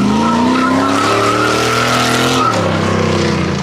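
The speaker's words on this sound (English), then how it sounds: "your inside tire starts to lose traction, all the power is going to go to that inside tire and it's just going to sit there and spin" A Chevrolet C10 pickup truck spins its inside rear tire on an open differential coming out of an autocross corner, loud sustained tire squeal over a revving engine.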